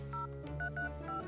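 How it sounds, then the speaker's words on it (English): Short electronic phone tones ring out in a brief repeating pattern of beeps, marking an incoming call, over a steady low hum with no talking. "Getting a phone call."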